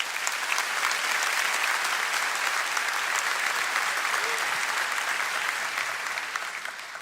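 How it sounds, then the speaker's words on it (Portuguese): A church congregation applauding during a sermon, a dense, sustained roar of many hands clapping together at a steady level, filling the room and easing off slightly toward the end. "Você pode aplaudir ao Senhor."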